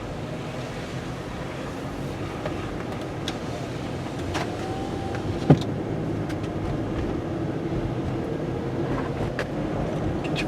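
Car engine idling while parked, a low steady hum under wind and background noise, with a brief sharp click midway.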